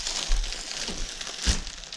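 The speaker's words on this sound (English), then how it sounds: "Have a satisfying peel." Protective plastic film peeled from the front fender of a new Sur-Ron X electric motorbike, a close crinkling rustle with a brief louder tearing crackle near the end.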